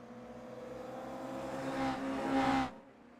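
Toyota GR86 race cars in a sim racing game, each with a 2.4-litre naturally aspirated boxer four-cylinder engine, hum steadily and then rise briefly to a louder swell before cutting off.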